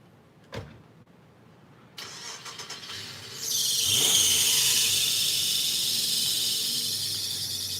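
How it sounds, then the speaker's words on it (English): Car engine cranking and catching after a couple of clicks, then a sustained loud high squeal from a slipping belt that keeps going as the engine idles, with no voices. "I love the slip and belt squeal."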